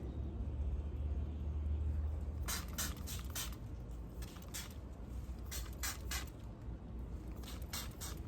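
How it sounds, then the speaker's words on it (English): Neem oil sprayed by hand onto the undersides of garden plant leaves, several short hissing bursts of a trigger sprayer coming in quick clusters over a faint outdoor background. "Do a little spray on the underside of these."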